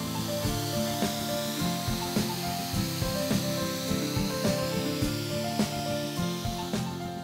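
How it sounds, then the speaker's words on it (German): Paint sprayer misting water-based varnish onto wooden terrace boards, a steady close hiss running continuously with regular soft pulses and faint rubbing knocks throughout. "Und jetzt kommt das Allerbeste, das Sprühen."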